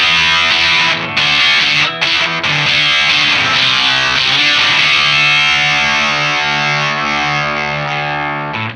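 Jam Pedals Octaurus LTD fuzz pedal set to low gain with asymmetrical clipping, giving an electric guitar a loud, thick, gritty distorted tone with sustained chords ringing alone and no talking.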